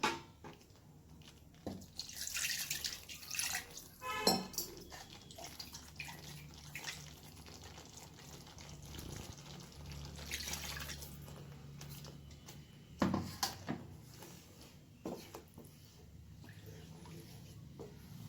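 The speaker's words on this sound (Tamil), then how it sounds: "இன்னும் கொஞ்சம் தண்ணி ஆட் பண்ணிக்கலாம் கிரேவிக்கு." Water is poured into a simmering mealmaker (soya chunk) gravy in a cooking pot, giving short splashing pours and drips that come and go between quieter stretches, with faint kitchen handling sounds around them.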